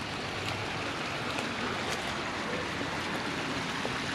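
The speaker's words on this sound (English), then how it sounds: "water fountain, waterfall thing there. It's always running." A small water fountain with a little waterfall runs steadily outdoors at night beside a playground, a constant soft rushing wash with no other sounds over it.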